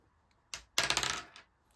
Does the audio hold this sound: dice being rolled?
yes